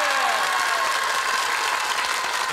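A studio audience at a Korean TV game show claps steadily and loudly, a continuous wash of applause with a faint tonal sweep fading early on.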